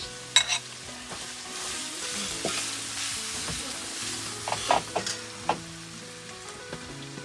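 Onion and garlic frying in a pan, a steady crackling sizzle with intermittent stirring scrapes and clicks near the microphone, no talk.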